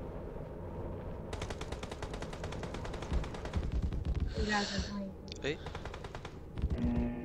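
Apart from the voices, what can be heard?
fireworks from a lobby event in the video game PUBG Mobile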